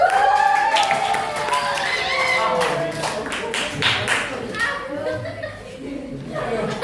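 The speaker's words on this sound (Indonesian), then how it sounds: "Tepuk tangan untuk kalian semua." Classroom audience applauding a group presentation, scattered clapping with cheering and children's chatter mixed in, at moderate volume throughout.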